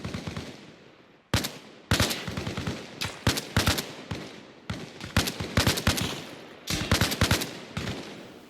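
Automatic gunfire in Arma Reforger, loud close bursts of sharp shots with echoing tails, fired in several rapid clusters separated by short pauses.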